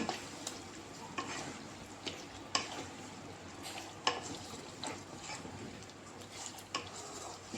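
Kadai chicken frying in a pan with tomatoes melted into the gravy is stirred, a soft continuous sizzle broken by repeated sharp scrapes and taps of the spoon against the pan.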